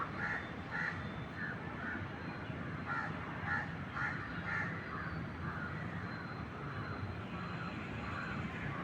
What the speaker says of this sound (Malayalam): പിന്നെ ഇടയ്ക്ക് വല്ല കാക്കയും കരഞ്ഞാലായി.